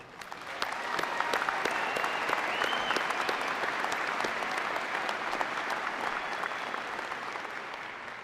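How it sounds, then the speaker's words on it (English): A large commencement crowd at the UW-Green Bay 2018 spring ceremony gives the graduates sustained, steady applause, with a few sharper claps and faint cheers standing out from the wash. "an extra round of applause"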